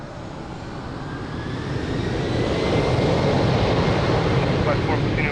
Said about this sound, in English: Embraer 195 is now departing